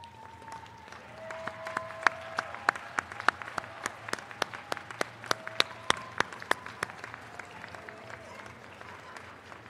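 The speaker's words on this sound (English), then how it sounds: "I invite you to stand now and honor them with a big round of applause" Standing graduates at the Averett University spring commencement applaud their families, a steady spread of sharp individual claps from a large crowd, with faint voices mixed in, continuing for nearly ten seconds.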